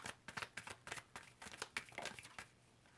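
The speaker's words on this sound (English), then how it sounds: "Let's keep shuffling and see what else comes out here." A tarot card deck is shuffled close up, quick papery riffles and slaps repeating in uneven bursts over a few seconds, fairly quiet with no talking.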